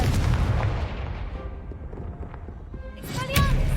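A Confringo spell blast in Hogwarts Legacy, a heavy booming explosion that rumbles and decays over a few seconds before a second sharp magical burst and chime near the end, with a voice calling out alongside.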